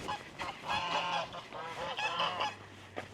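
Geese honk repeatedly in a light morning drizzle, a busy overlapping flock calling at moderate distance with no talk.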